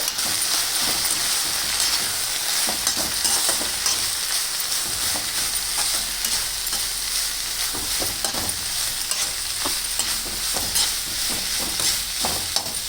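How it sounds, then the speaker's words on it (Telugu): Grated coconut stirred into drumstick leaves frying in a pan: a steady broadband sizzle with repeated scraping stir strokes throughout, close and fairly loud, no voices. "ఈ కొబ్బరి కూరను ఇందులో ఈ మునగాకు వేగుతున్న మునగాకులో వేసుకొని బాగా కలుపుకుంటామండి"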